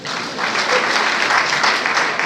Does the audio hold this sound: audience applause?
yes